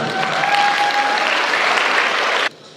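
Dense applause in a school hall for a bartender about to give a bar demonstration, sustained even clapping that cuts off abruptly near the end.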